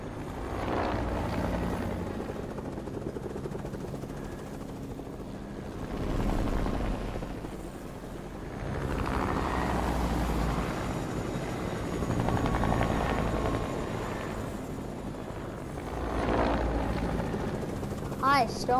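Helicopter flying overhead in a battle royale video game, a loud, continuous rotor thrum that swells and fades in waves as the chopper passes, with speech heard over it in places.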